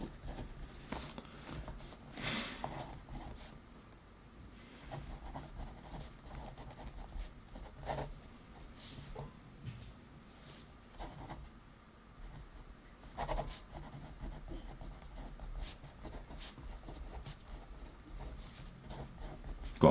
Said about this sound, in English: Keep the video playing, because I'm going to write mine right now.